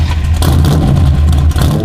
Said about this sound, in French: j'ai mis le bruit d'un moteur V8